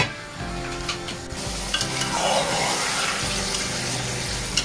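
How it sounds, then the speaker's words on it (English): Lamb chops sizzle and crackle steadily in a hot pan, with occasional stirring scrapes, close and fairly loud throughout. "I'm still frying it."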